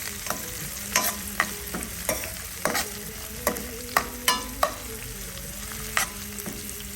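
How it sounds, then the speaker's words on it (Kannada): Chana dal and urad dal tempering frying in hot oil for uppittu, a steady sizzle broken by sharp, irregular scraping strokes of a spoon stirring close by. "ಒಗ್ಗರಣೆ ಬಿಸಿ ಮಾಡಿ."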